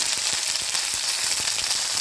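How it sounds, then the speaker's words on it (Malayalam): Mustard seeds crackling in hot oil as curry leaves go in, a dense close sizzle broken by a quick run of sharp popping crackles. "കടുക് പൊട്ടി വരുന്ന സമയത്ത് നമുക്ക് അതിലേക്ക് കറിവേപ്പില"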